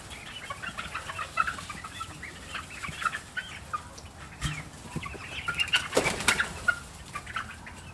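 Chickens and roosters cluck and squawk softly in a farm barn, with scattered calls, rustling and a brief burst of flapping wings.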